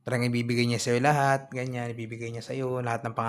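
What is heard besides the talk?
None of the usual background noises is heard.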